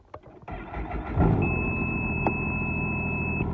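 A Ski-Doo Expedition 900 ACE snowmobile engine cranks and catches, settling into a steady idle, while a high electronic beep tone sounds continuously over it for a couple of seconds; no warning message shows.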